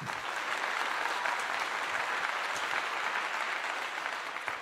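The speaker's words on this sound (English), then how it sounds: "So let's give them a clap for that." Audience members at a Colorado football post-game gathering after the Oklahoma State game clap together in a full, sustained round of applause that stays level throughout.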